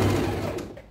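A sewing machine stitches a small frill into the hem of a crop top, giving a steady, close motor hum that fades slightly over a single second.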